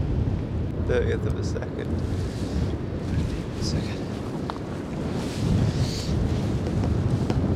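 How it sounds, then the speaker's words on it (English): Strong gusty wind buffets the microphone outdoors on a hillside while shooting film, a continuous low rumble with brief spoken words over it. "Oh, it's windy. It's windy."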